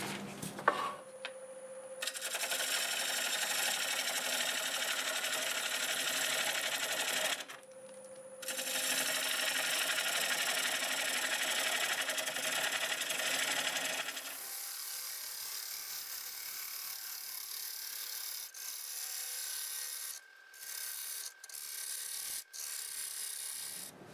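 A wood lathe spins and cuts a knotty black walnut blank with bark still on, a steady whirring drone with scraping tool contact. It stops briefly, resumes, then settles into a quieter, thinner spin with a few sharp ticks.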